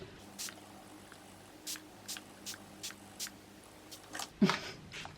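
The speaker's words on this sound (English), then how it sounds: "So I'm going to spray my face." A series of short, hissy spray bursts of liquid foundation onto a face at irregular intervals, fairly close, followed by a brief louder rustle near the end.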